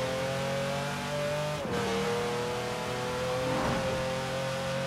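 Car engine in the racing video game Forza Horizon 4, a loud sustained roar that holds a steady pitch, dips sharply at a gear shift, then climbs again at full throttle, with no talk over it.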